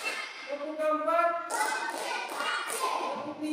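Fourth-grade primary school pupils clap their hands in a counted rhythm during a classroom routine, with a few sharp claps and chanting children's voices over a teacher's counting.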